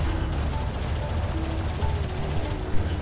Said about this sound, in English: Armored vehicle is taking fire.